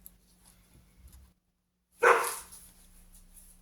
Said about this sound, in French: Ça, c'est mes chiens qui aboient.